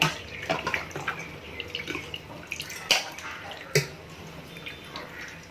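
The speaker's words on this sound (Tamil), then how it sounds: "கடைசி தடவை கழுவுறப்போ குடலில் சுடுதண்ணி ஊற்றிருக்கேன்" Hot water pours and splashes over mutton intestines being washed in a vessel, a steady running trickle broken by a few sharper splashes and drips.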